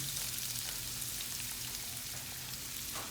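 Onions fry in oil in a pan over medium heat for a canned tuna macaroni dish, giving a steady close sizzling hiss with faint crackles and no pauses.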